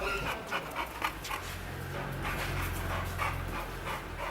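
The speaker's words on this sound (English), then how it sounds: "everyone became wary of Psycho Dog after he bit 2 people" A dog pants steadily in rapid, breathy bursts close by, with a low hum underneath and no talking.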